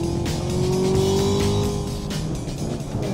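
A 2018 Chevrolet Camaro ZL1 1LE engine drones loud and steady under power, its deep tone rising and falling slightly as the car drives, with no talk over it.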